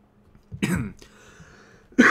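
A sick person gives a couple of harsh, throaty coughs close to the microphone, separated by a short pause.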